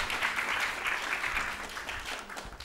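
Sustained audience applause fills a conference hall as a panelist walks up to the stage, an even wash of many hands clapping at moderate volume that eases slightly toward the end.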